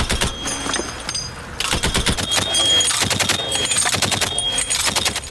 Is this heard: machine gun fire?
yes